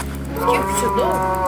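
A Minecraft cow gives a single drawn-out moo close by, while a voice speaks briefly over it.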